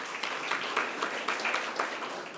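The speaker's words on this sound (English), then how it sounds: "Let's give him another round of applause" A summit audience claps in a round of applause, a soft, moderately distant patter with a few sharper bursts, steady for a couple of seconds.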